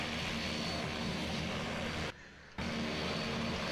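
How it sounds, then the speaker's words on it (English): Steady loud drone of a turbine-powered Cessna 206 in flight, heard from inside the cabin, with a brief drop in level partway through before the engine roar returns. "it might have a turbine engine, but it's still in the 206 airframe"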